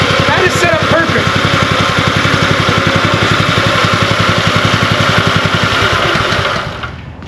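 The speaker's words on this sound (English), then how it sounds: "I can see the motor's trying to surge. It's starting to move on its own." A Revolution reel mower's small engine runs steadily up close on concrete, its loud, even chugging rising and surging slightly before the sound drops away near the end.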